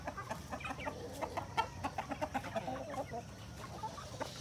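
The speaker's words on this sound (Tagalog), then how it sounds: "Marami na pong kumakakak. Yun po yung sinyalis na mangitlog na yung ibang manok." Many laying hens in a poultry house cackle and cluck together in a busy, steady chorus of overlapping calls, moderately near, with no talking.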